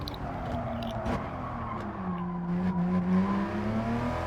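Porsche Cayman GT4 engine in a racing video game, a steady drone with pitch sliding up and down through braking and acceleration, loud and continuous with no talk.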